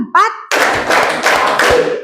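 Rhythmic counted hand clapping by a class of students following a teacher, a dense burst of claps repeating in steady beats after a brief spoken cue, loud and close.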